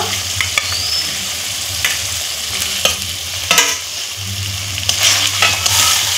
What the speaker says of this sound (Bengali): ভেজে রাখা পটলগুলো দিয়ে দিব।